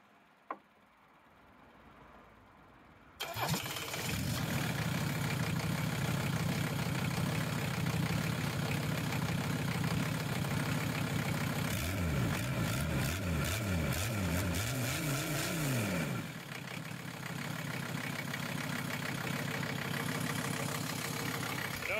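Mercedes diesel engine cranks briefly, catches and settles into a loud, steady idle with an even knocking clatter, dropping off near the end.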